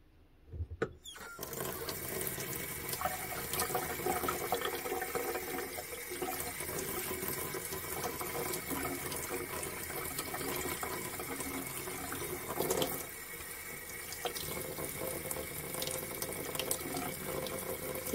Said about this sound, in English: and then I'm going to rinse it off.